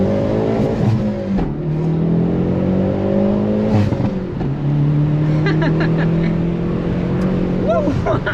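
A 2020 Hyundai Veloster N with a manual gearbox, heard from inside while driving, its engine note climbing steadily through rising revs, dropping at gear changes and climbing again, loud and close throughout.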